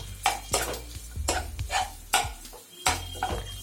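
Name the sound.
stirring chopped tomatoes in a pan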